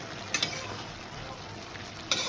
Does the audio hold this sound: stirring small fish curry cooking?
yes